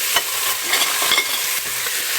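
Meat and bones fry in a pan with finely chopped garlic for a sauerkraut and mushroom soup, giving a steady close sizzle with occasional stirring clinks and scrapes, no voices.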